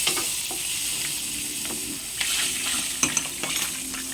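Bagoong fries and sizzles in oil in a pan, a steady hiss broken by a few soft clinks and scrapes of a utensil against the pan.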